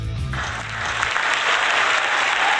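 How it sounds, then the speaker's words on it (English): A round of applause for a guest on a live show, with a host's voice giving way to dense, steady audience clapping that continues to the end. "So give a nice big round of applause for Bruce Goldberg."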